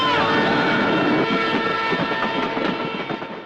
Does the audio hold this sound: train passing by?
yes